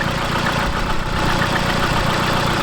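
A Volvo car engine idles steadily at around 900 rpm, a continuous close rumble with a faint knocking texture and no voices over it.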